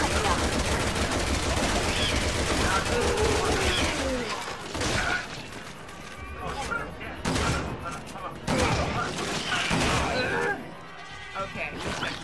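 Gunfire in Resident Evil 6 against zombies, dense rapid shooting and crashes in the game mix, with players talking over it throughout.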